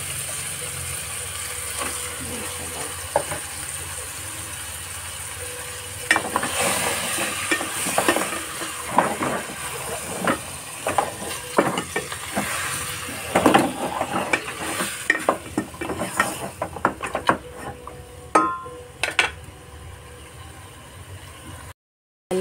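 Fish (maya maya) being laid into a hot pan of oil for frying, with a steady sizzle that grows louder and crackly as pieces go in, plus scattered clatter of utensils close by.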